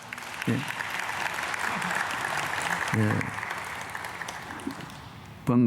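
A church congregation at a special dawn service claps together in a steady wash of applause, with brief low voice-like bursts breaking through and a louder surge at the end.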